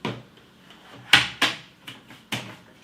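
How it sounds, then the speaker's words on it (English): Two blue handles are pushed down on a Philips Perfect Draft beer tap machine, producing a series of sharp close plastic clicks and clunks, about five, in an otherwise quiet room. "Push the two blue handles down."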